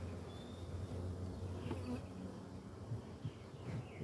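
Dense, continuous buzzing of honeybees during a hive inspection with a divider board being moved, a steady close swarm hum filling the whole stretch.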